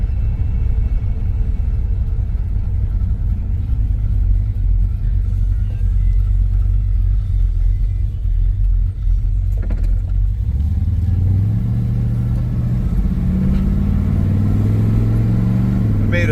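A Plymouth Belvedere engine runs steadily on 91 octane fuel, a loud, continuous low rumble close by that rises into revving toward the end, with no talking.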